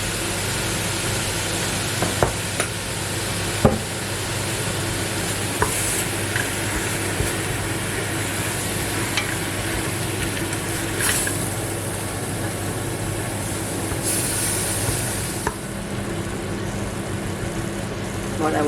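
Ground beef for lasagne sizzles steadily in a hot pan, a continuous close frying hiss with occasional scrapes and clicks of stirring throughout.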